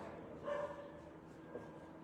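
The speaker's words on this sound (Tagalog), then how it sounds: "maingay yung aso" Faint dog barks in the distance, one short yip near the start and a softer one later, set against low background noise.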